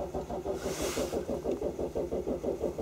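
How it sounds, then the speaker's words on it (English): Starter cranking a Hyundai Tucson engine with a crankshaft position sensor fault, a steady rhythmic chugging at about four turns per second that never catches, heard close and fairly loud throughout. "I crank now the engine."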